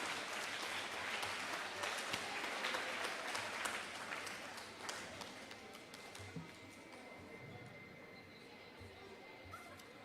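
Applause from an awards ceremony audience honoring 8th grade individual teacher award winners at a middle school, sustained clapping filling the room and gradually easing toward the end.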